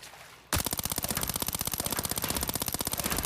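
Rapid automatic fire from a Vector submachine gun shooting training dummies in Arena Breakout, a sustained loud burst of evenly spaced shots beginning after a brief quiet moment and running without a break.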